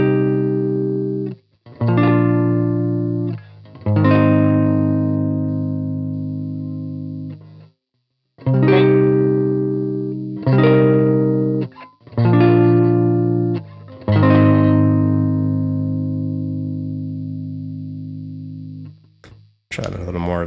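Electric guitar through the Neural DSP Archetype Misha Mansoor amp plugin with a mid-boosting voice switch engaged, playing loud ringing chords and short stabs separated by brief silences, heavy and distorted with reverb.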